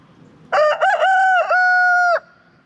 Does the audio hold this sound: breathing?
no